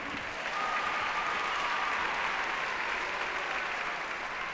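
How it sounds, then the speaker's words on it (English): Sustained applause from an audience at a Martin Luther King Jr. Day celebration in Montgomery County, Maryland, a dense steady wash of clapping holding at even loudness for several seconds with no talk over it. "One more round of applause."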